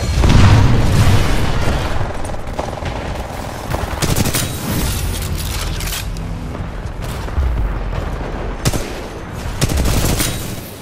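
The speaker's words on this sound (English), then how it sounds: "Predator cannon at your disposal." Predator cannon firing in Titanfall 2, a loud, continuous barrage of heavy automatic gunfire with booming impacts and explosions layered throughout, sustained without pause.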